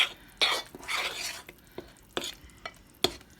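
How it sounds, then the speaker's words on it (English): A spoon stirs and blends dinner roll batter in a bowl, giving soft wet sloshing swirls broken by sharp clicks and taps of the spoon against the bowl, fairly close and with no talking. "So we're just going to keep blending and blending and blending this with a spoon, okay?"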